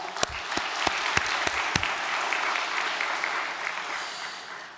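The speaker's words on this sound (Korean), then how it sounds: "큰 박수를 보내드리고 싶습니다" Congregation applause during a church worship service, opening with several sharp individual claps that quickly merge into a dense, steady round of clapping from the audience, moderately close.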